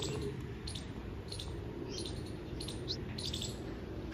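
Faint, high chirps from small birds in a Haryana village come in scattered short bursts over a steady low background hum, distant and quiet.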